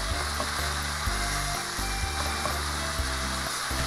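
Meat sizzles steadily in a pan of oil, a constant crackling hiss broken by the regular scrape and clack of stirring against the pan.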